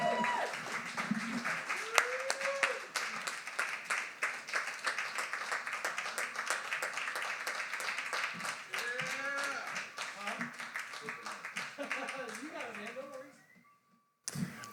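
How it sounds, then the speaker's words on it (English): An audience at a poetry slam applauds steadily with dense, sustained clapping, voices mixed in underneath, before the applause fades out near the end. "Please give a round of applause to Gentry Sr."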